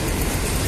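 A passing train heard up close near a Jakarta station, a loud, dense rumble of wheels and engine filling the brief moment without any voices.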